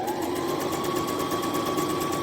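A sewing machine runs steadily while back stitching the seam of a fabric phone pillow, a continuous even motor hum with a fine rapid needle rhythm and no pauses.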